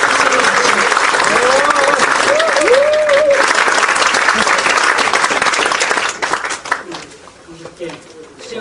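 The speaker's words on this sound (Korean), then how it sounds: "다시 한번 유시민 그 진보정의당 중앙위원님께 큰 박수 부탁드리겠습니다" At a party founding convention in Seoul, a large crowd claps loudly and steadily, with a few whistles and some voices over the top, then the applause thins out and fades after about six seconds.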